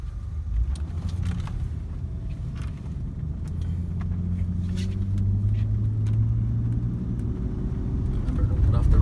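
Car driving on a narrow road in Lake County, heard from inside as a steady low engine and road rumble that slowly builds, with light rattles and no talk.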